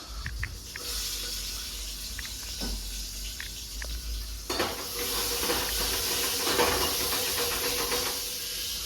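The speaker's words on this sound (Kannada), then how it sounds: "ಒಂದಿಷ್ಟು ಈರುಳ್ಳಿ ಹಾಕೊಳ್ತಾ ಇದ್ದೀನಿ" Sliced onions dropped into a hot pan while cooking bassaru, a soft hiss at first that swells into a fuller, steamy sizzle partway through, with a few light clinks and no talking.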